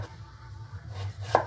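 A knife cuts into fresh ginger on a board, a single crisp chop landing near the end after a quiet lead-in.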